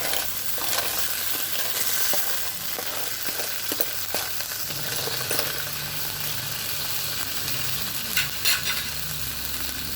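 Food stir-fries in a pan over a wood fire for a Thai village meal cooked with grandma, a continuous close sizzle with steady scraping and stirring strokes, occasional clanks of the spatula, and no talking over it.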